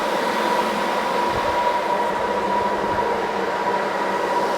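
Cooling fans on a crypto mining rig in a DIY rack, heard as a steady, loud broadband whir with a constant tonal hum and no talk.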